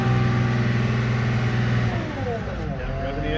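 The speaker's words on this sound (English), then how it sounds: "I'm going to rev the engine up." A CAT IT28G wheel loader's engine revs up and settles during a steering system test, a loud, close mechanical drone that holds high, then drops and changes pitch, with someone talking over it.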